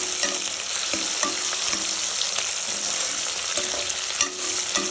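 Vegetable pulao with onion fries in a pan under a constant loud sizzle, while a spoon scrapes and stirs in repeated close strokes.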